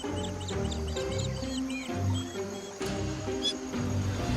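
Giant otters in an Amazonian swamp lagoon give chaotic, shrill, squealing calls, overlapping and continuous against a background of low sustained tones.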